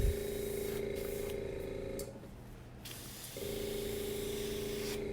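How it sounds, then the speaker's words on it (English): Alcohol sprays from a spray bottle onto a painting in two sustained hissing bursts with a short pause between, close and fairly quiet against a steady background hum. "Spraying it out."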